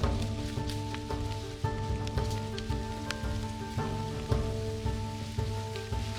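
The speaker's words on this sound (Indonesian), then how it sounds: "hujan pun kembali turun" Steady rain falls through a tropical forest during the rainy season, a dense continuous patter with occasional sharper drops, close and even throughout with no voices.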